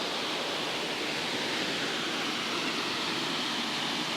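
Roblot Choiseul waterfall roaring in a steady, dense, unbroken rush, close and loud, with no voices.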